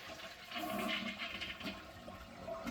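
A toilet flushes as its tank water is emptied during a fill valve replacement, a steady rushing gurgle of draining water lasting a few seconds, close and moderately quiet with no talk.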